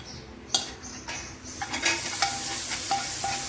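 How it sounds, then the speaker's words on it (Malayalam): Prawns frying in coconut oil for prawn biryani, a soft steady sizzle broken by a few clinks of a utensil against the pan, quiet and close with no talking. "ചെമ്മീനൊന്ന് നമുക്ക് വറുത്തെടുക്കണം."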